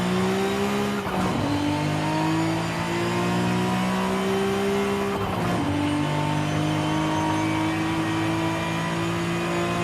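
A 2002 Nissan Skyline GT-R R34 V-Spec II engine revs hard and loud from close by, climbing through the gears with two clear shift breaks and a rising, sustained drone.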